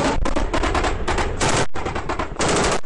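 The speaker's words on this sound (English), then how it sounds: "I try to overcome that by putting fire back on the enemy." Loud, near bursts of automatic gunfire in combat in Afghanistan, dense rapid volleys with one brief gap before the firing resumes.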